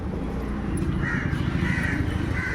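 Crows cawing outdoors near a hospital where people feed them and stray dogs, a few repeated harsh caws at moderate distance over a steady background hum.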